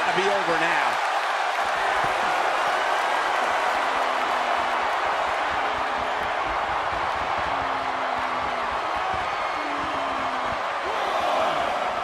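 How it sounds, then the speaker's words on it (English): Wrestling crowd at an X-Division semi-final match cheering and roaring continuously, loud and dense throughout, with faint announcer talk mixed underneath. "by the sound of this crowd, I think they're getting what they wanted"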